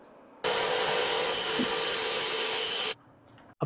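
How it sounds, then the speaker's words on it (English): A rotor shaft from a heavily rusted bench grinder being polished by a power tool, a loud steady whir that starts abruptly, holds for about two and a half seconds, then cuts off. "Continue polishing the rotor shaft."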